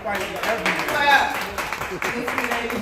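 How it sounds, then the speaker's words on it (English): An audience claps in a scattered burst, with voices talking over the applause throughout. "Clap for y'all, clap."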